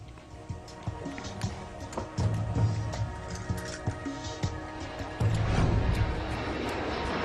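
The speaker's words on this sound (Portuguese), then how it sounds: "o voo da Helios Airways levanta voo em meio ao sol brilhante" A Helios Airways airliner on its takeoff run under bright sun, a broad steady roar that builds in two stages, with dull thumps and knocks scattered through it.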